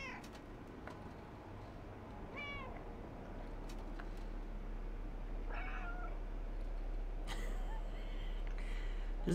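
A cat meows in a video game, with a few short, faint meows spread over a quiet, hissy background, one longer call near the end.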